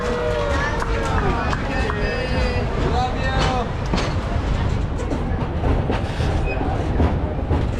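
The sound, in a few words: amusement park railroad train running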